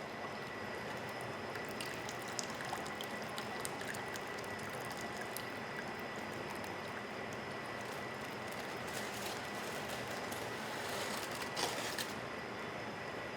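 Liquid and fine material are poured slowly off a Wilfley table concentrate, giving a soft, continuous trickling wash that stays faint and even throughout, with no talking.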